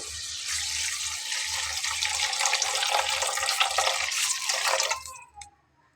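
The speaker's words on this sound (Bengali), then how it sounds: "পরিমাণ মতো পানি দিয়ে নেব।" Water pours steadily into a cooking pan holding soy sauce and tomato sauce for a cauliflower and potato momo filling, a loud continuous splashing stream for about five seconds that cuts off abruptly into quiet.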